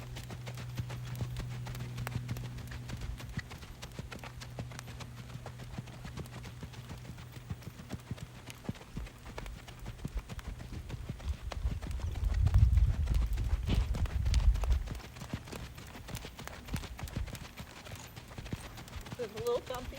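A Rocky Mountain Horse gaiting downhill, its hooves making a soft, steady clip-clop throughout, with a heavier rumble of movement midway; a person talks over the footfalls.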